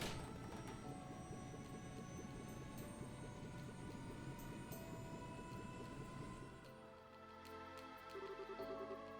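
Airship lifting off in the video game Trails in the Sky, a steady loud engine roar and whir with layered mechanical drone that holds for several seconds, then drops as game music with a fanfare takes over.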